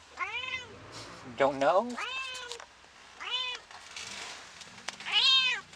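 A young kitten gives several high, drawn-out meows close by, some rising and wavering, with short pauses between them and a person briefly speaking in between.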